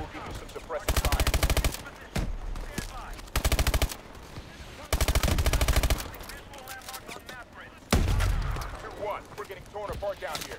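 Bursts of automatic suppressive gunfire in the Call of Duty: Advanced Warfare campaign mission Throttle, loud sustained volleys in four separate stretches, with battle noise and radio-style voices talking between them.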